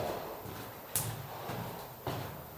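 A door in an abandoned asylum being tried and pushed open, with a couple of sharp knocks and rattles from the latch and frame over a steady background hiss.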